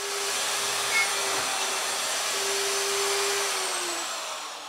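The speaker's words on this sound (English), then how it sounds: "it works with my router that has a 1/4-inch bit in there to drill the holes" A router fitted with a 1/4-inch bit bores shelf pin holes through a pine jig, giving a steady high whine that holds for several seconds and then eases off slightly, with no voices.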